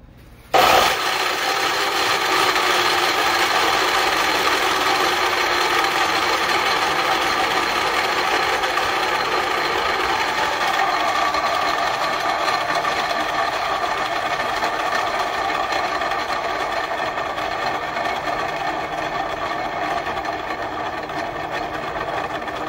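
An abandoned miter saw's motor whirring after the trigger is let go, a steady loud mechanical hum that starts abruptly and keeps spinning with only slight fading over a long stretch.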